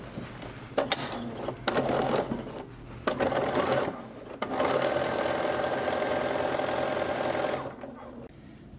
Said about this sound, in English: I'm going to be here sewing for a few minutes while I get these self-enclosed seams done